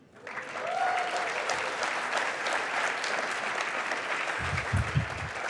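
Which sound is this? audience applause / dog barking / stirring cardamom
audience applause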